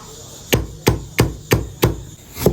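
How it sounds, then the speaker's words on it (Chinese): Scallions and ginger are chopped on a board, six sharp, close knife strikes in an even rhythm about a third of a second apart. "切点葱姜"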